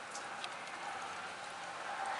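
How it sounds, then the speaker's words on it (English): Steady rain falls on a cold day and pours into a house rain gutter, giving an even, close wash of drops with no talk. "now it's raining. It's really cold and rainy"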